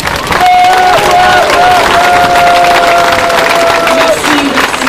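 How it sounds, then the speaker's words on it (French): A large outdoor crowd at a Gaza solidarity demonstration in Quebec applauding and cheering, a loud continuous wash of clapping and voices with a sustained tone running through it. "j'aimerais encore une main d'applaudissement, s'il vous plaît, à Madame Yasmine Daher et Christian Nadeau."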